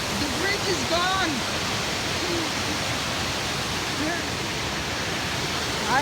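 A river beside a hiking trail, its washed-out bridge gone, rushes as a steady broadband roar of flowing water, loud and close, with a few faint chirps drifting over it and no talking.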